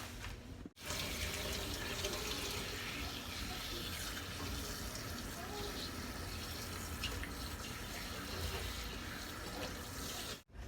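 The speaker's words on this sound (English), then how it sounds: "So what we do next is we're going to rinse this out." Water runs steadily from a tap while a protein treatment is rinsed out of hair, a continuous close splashing rush that starts and stops abruptly, with no voices.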